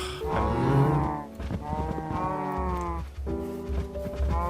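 Minecraft cows moo in a blocky farm game, three long drawn-out bellows in close succession, loud and near with no talking over them.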